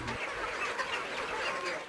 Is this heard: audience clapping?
no